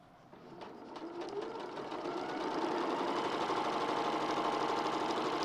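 A domestic sewing machine stitches a quilt with a steady, fast mechanical whir, rising slightly in loudness at the start and then running continuously up close, with no talk over it.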